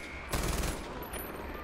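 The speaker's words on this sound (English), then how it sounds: "may as well guns are guns are blazing" Gunfire in the video game Far Cry 4, a short loud burst of rapid shots that then falls back to a steady mix of game noise.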